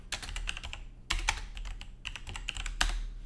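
Rapid keystrokes on a computer keyboard while entering commands on an Ubuntu 22.04 home server, a close, steady patter of clicks in short bursts with brief pauses, no voices.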